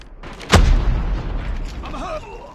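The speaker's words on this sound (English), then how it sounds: "Grenade out!" A single loud in-game grenade blast in a Call of Duty Search & Destroy ranked match, a sharp boom followed by a rumbling decay, with a voice speaking faintly near the end.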